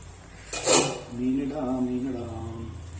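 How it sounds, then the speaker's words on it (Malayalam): Pieces of mackerel are dropped into a boiling Kerala-style fish curry in a pot, with a sharp clatter of pot and utensil followed by a voice talking over the simmer. "നമുക്ക് നോക്കാം. മീനിടാം."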